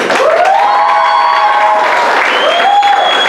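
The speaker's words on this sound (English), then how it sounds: "Let's hear a round of applause that wakes up Paul Bogle a little." Audience applause at the finals of a schools debate competition, a steady, loud wash of clapping from a crowd lasting the whole stretch, with some tonal whistle-like sweeps riding above it.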